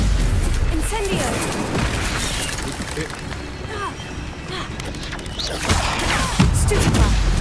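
Hogwarts Legacy spell combat with Stupefy and Incendio, a dense run of magical blasts, whooshes and booming impacts, loud and continuous, with a voice calling out over the game sounds.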